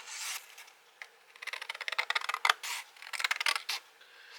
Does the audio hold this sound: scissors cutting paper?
yes